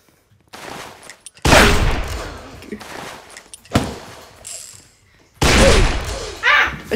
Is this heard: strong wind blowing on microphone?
no